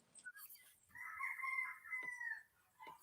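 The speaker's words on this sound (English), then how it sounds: "that's your rooster" A rooster crows with a long, drawn-out call, fairly close, followed by a brief clucking note at the end.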